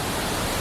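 Mantayupan waterfall in Cebu, heard from a swinging bridge: a steady, loud broadband roar of falling water, unbroken throughout the short moment with no voices.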